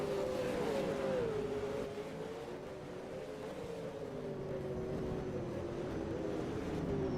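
V8 race car engines from a sim racing game at the Adelaide street circuit drone steadily down the back straight, a sustained loud whine with slight pitch shifts as several cars run together, no talk.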